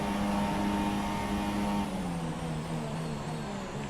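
A Formula 1 car engine in F1 2017 racing at Monza, a loud steady high whine held at speed that drops slightly in pitch partway through, alone without talk.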